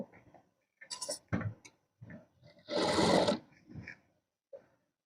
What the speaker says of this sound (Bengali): এখান থেকে আমি এই কুচিটা সেলাই করে নিব